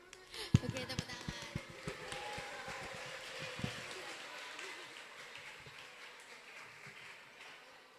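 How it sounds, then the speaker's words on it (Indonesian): Children and audience clap at a Santri Day talk show, with scattered loud claps and thumps at first, then a softer, steady patter. Voices talk over the clapping. "Oke, tepuk tangan."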